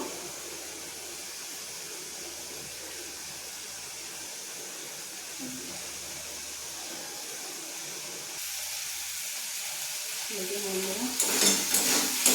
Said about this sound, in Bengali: এইভাবে ভালো করে আমি কষে নেব।